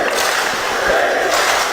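An arena crowd at a Counter-Strike PGL Major esports match cheers and roars in a dense, continuous wash of noise, with scattered shouts rising from the mass.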